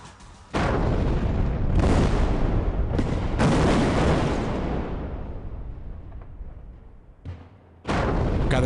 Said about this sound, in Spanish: Cada explosión genera una propagación de ondas parecida a la de un sismo.